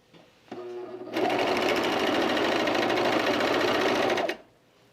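An overlocker serges the seams of an Atlas blouse from Maison Fauve, first a short light whir, then a loud steady run of fast stitching that holds for about three seconds before stopping.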